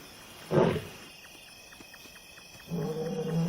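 A male lion roars at night in the African wild, two deep swelling bursts at moderate distance, separated by a lull of faint rhythmic grunting calls.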